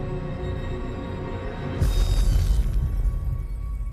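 Fireworks burst in the video game Quantum Break: a low booming explosion lands partway through over a steady musical backdrop, followed by a rumbling, crackling tail.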